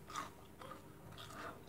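Crunchy French fries seasoned with paprika being bitten and chewed up close, several crisp crunches at steady intervals, fairly quiet, with no talking.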